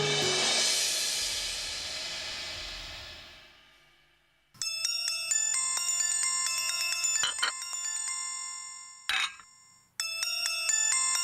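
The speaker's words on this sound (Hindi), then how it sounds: "ये लीजिए, आपके लाडले बेटे का फोन आ गया।" A mobile phone ringtone sounds for an incoming call, bright electronic chiming tones repeating in loud bursts with brief gaps, following a fading wash of noise.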